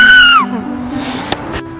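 A man gives a loud, shrill scream mimicking a dinosaur squeal, sweeping sharply downward over about half a second, then a quieter lingering tone with faint rustles behind it.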